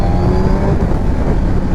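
A Kawasaki Z1000SX motorcycle accelerates on a test ride, its engine a loud, continuous, rising drone close to the rider, with wind noise behind it.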